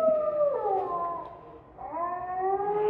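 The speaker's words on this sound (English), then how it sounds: "Push to hear the wolf howl." A recorded wolf howl plays from a visitor center exhibit: two long, rising and falling wavering howls with a brief pause between them, clear and close.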